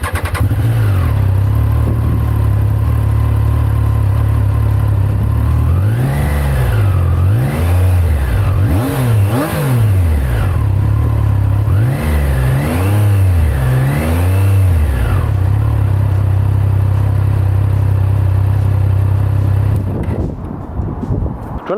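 A 2022 Triumph Tiger Sport 660 motorcycle fires up and settles into a loud steady idle, then gets several quick throttle blips that rise and fall before the engine shuts off.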